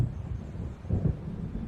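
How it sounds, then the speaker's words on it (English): Low distant thunder from an approaching storm in the video game Alan Wake, a dull rumble that swells once briefly over a soft windy background, with no voices. "It seems there's a storm coming."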